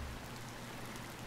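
Steady, even hiss of rainfall in the video game Cattails, a soft continuous patter with no voices or other sounds over it.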